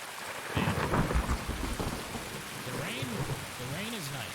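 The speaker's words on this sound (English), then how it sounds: "The rain is nice." Rain pours steadily and thunder rumbles in the Escape From Tarkov video game, with a heavier roll in the first seconds and a dense rain hiss throughout. Faint game sounds and a light voice sit under the downpour.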